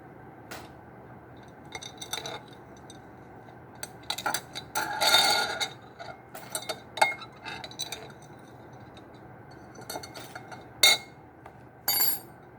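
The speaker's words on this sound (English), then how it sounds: "I'll take some of these ice cubes out." Ice cubes clink and knock as they are lifted out of a container, scattered light taps and rattles spread over several seconds, fairly close and quiet; no talking.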